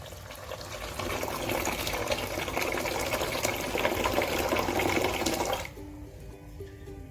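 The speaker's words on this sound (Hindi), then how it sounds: "अब इसमें मैंने बर्फ़ वाला ठंडा पानी डालना है।" Ice-cold water gushes steadily into a pot of brewing Kashmiri pink tea for several seconds, a loud continuous pour that stops abruptly, followed by quieter kitchen sounds and no talking.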